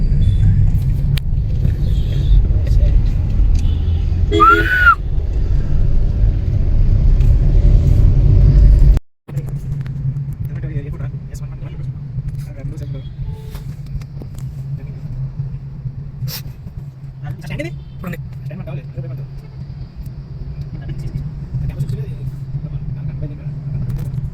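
Road traffic heard from inside a vehicle stuck in a jam in Mumbai, a steady loud low engine rumble with a brief horn and faint passing vehicles, one short break midway.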